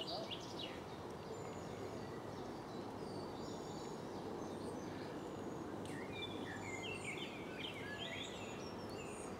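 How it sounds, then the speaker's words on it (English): Birds sing in woodland at Sheringham Park: various chirps and whistled phrases from chiffchaffs, blackbirds and blackcaps scattered over a steady outdoor background, fairly faint and distant. "wonderful bird song everywhere"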